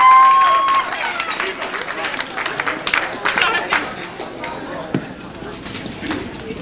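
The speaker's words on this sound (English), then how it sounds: "Let's have a round of applause," Wedding guests applaud with scattered, irregular claps that swell and then thin out, with some crowd murmur underneath.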